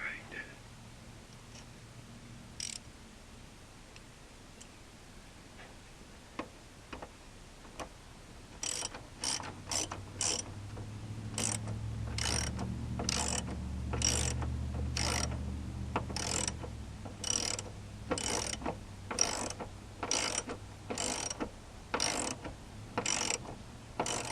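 Ratchet wrench cranking on a truck cab mount bolt, starting with scattered clicks under low talk, then a fast, steady run of close ratcheting clicks in bursts.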